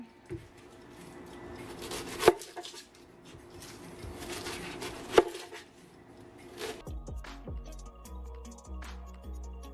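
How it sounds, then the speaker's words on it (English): A knife chops a red onion on a cutting board in a quiet kitchen. Soft, fairly fast taps and scrapes run throughout, with a couple of sharper, louder knocks and a busier patch of small cuts near the end, and no talking. "And you're gonna cut your red onion."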